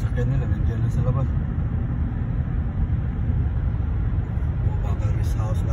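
A vehicle running just outside near a quiet farm rest house, a steady low engine drone throughout, partly under a person speaking nearby.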